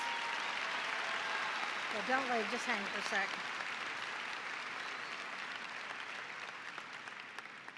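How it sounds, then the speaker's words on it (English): An audience at a high school graduation ceremony applauds the graduating students in a steady, broad wash of clapping, while someone briefly speaks over it partway through before the applause slowly thins. "Let's give these wonderful children a round of applause."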